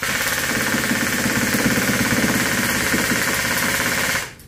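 An airsoft HK416 rifle with an HK magazine fires on full auto: a loud, continuous rapid rattle of shots for about four seconds that then stops abruptly.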